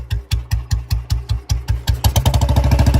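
A Royal Enfield Bullet motorcycle engine idles with a slow, heavy thump-thump beat, close and loud, before the throttle rises slightly and the pulses quicken into a faster steady chug.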